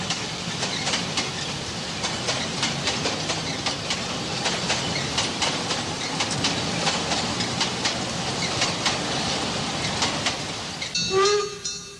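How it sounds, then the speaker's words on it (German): A small narrow-gauge train in 1980s East Germany rattles along with steady clickety-clack and a continuous rumble, ending with a short sharp whistle blast. "Das kleine Bähnchen pfeift und bimmelt munter dahin."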